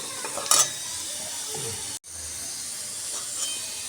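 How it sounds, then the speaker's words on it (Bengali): Sugar stirred into hot oil in a wok while making ghugni makes a soft, steady sizzle and hiss, with a brief clatter early on and a short dropout midway. "তেলের মধ্যে গরম তেলে দেখ চিনি দিয়ে ভালো করে নাড়াবো"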